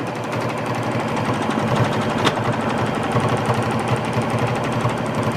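Juki sewing machine free-motion quilting runs as a steady, rapid mechanical rattle of the needle stitching, loud and close, with a brief click near the middle and no talking.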